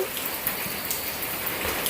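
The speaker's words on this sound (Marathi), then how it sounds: "पाऊस पडतोय बाहेर" Steady rain falls outside, a dense continuous hiss of drops on surfaces with scattered louder splashes, no voices.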